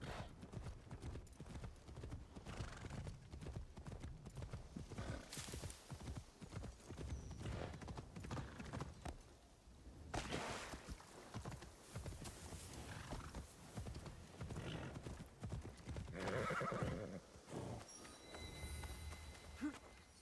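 A horse clip-clops along on hooves in Assassin's Creed Shadows, a steady quiet trot with a neigh or whinny breaking in midway and later, set against soft game ambience.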